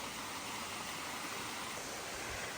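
Rushing water of the Sticky Waterfalls (Bua Tong) in Chiang Mai, Thailand, where water flows over grippy limestone rock; a steady, broadband wash with no talk, holding constant throughout.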